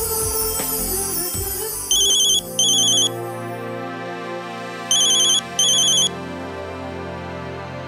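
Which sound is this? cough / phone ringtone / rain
phone ringtone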